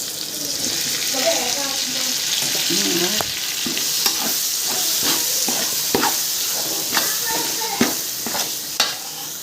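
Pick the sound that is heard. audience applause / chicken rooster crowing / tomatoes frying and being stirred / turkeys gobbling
tomatoes frying and being stirred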